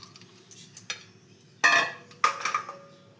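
A spoon stirs half a cup of sugar into a mixture in a metal vessel, making irregular scraping clinks and a couple of louder scrapes, close and alone.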